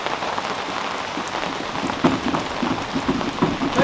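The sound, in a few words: rain falling on a sailboat deck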